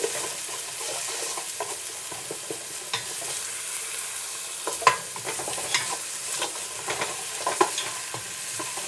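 Ginger garlic paste cooks in a hot pan for a Burmese-style coconut milk lentil curry, a continuous moderate sizzle dotted with irregular clicks and scrapes of a spoon stirring.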